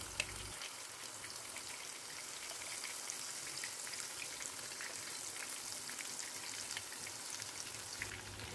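Steady, crackling sizzle of a blended spice paste for sambal with stink beans and tiny dried shrimp frying in hot oil, continuous and close throughout.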